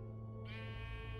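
A single synthetic sheep bleat from Minecraft Story Mode, with a bright, harmonic tone, loud and close, sounding like a game sound effect.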